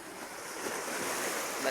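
Ocean waves grow stronger out on the water, a close, dense wash of surf blended with wind rush on the microphone, building slightly over a short stretch.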